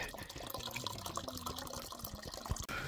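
Water pours into a pot for boiling at a mountain campsite on Mt. Pulag, a close, steady splashing trickle with a faint burble lasting a few seconds.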